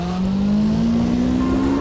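In the CarX drift racing video game, a car engine holds a loud, steadily rising rev note through a short stretch, with a faint tire squeal underneath and no voices.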